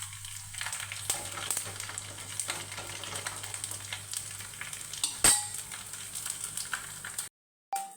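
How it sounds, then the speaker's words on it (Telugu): Nylon sago pearls frying in oil while being stirred with a spoon, a soft steady sizzle with light scraping clicks throughout, quiet and close, ending in a brief silence. "నైలాన్ సగ్గుబియ్యం వేసిన తర్వాత స్పూన్తో ఇలా తిప్పుతూ వేయించుకోండి"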